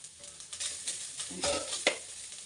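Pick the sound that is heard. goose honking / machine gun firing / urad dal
urad dal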